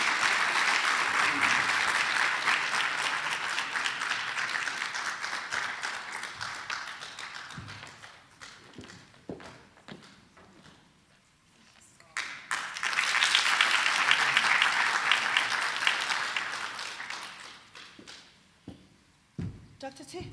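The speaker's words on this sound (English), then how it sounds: "Can you please give a round of applause?" A crowd at an Eastern Cape thought-leadership gathering breaks into sustained applause, with a lull in the middle before a second strong swell of clapping and a few scattered claps at the end.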